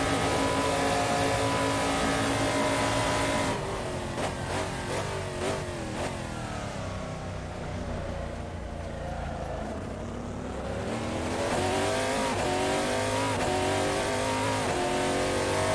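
A race car engine in Assetto Corsa at Monza roars loudly and continuously, revving high, dipping through a gear change and climbing again, with tyre noise beneath.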